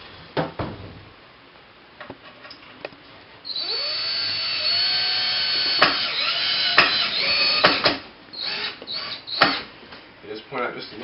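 A power drill drives screws into a wooden board holder, with a sustained rising whine lasting several seconds between clicks and handling knocks, close by, with a voice talking over parts of it.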